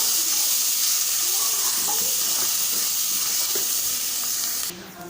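Grated ginger, finely cut green chilies and curry leaves temper in hot oil with a steady, close, loud hiss and sizzle that runs unbroken and then drops off sharply near the end.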